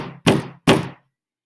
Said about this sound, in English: wakes up the big bad wolf with 10 quick raps and 3 long knocks on his heavy wooden door